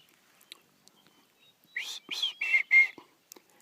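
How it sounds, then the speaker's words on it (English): A hiker on a high mountain trail near San Gorgonio makes breathy attempts at whistling, several short airy bursts in a row after a few faint clicks, with no clear tone. "It's hard to whistle at this elevation."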